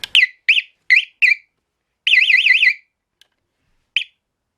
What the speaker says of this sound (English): when I put this battery on, if it beeps, if the screamer goes off